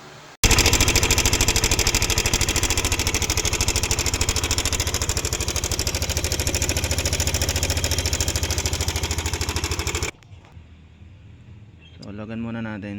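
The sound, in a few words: Yamaha Aerox/NMAX scooter engine running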